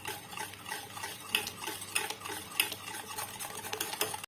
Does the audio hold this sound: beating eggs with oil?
yes